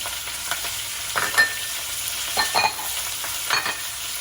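Onions and garlic frying in a pot for a pot roast, a soft steady sizzle with a few louder stirring scrapes and clinks spaced through it.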